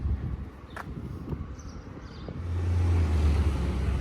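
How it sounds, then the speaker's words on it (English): A garbage truck passes by outside on a sunny day, a low engine rumble that swells and holds steady near the end, with faint road noise and no talking. "The garbage truck passed by."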